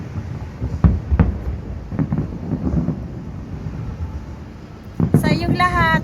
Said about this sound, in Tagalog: Lamir fireworks.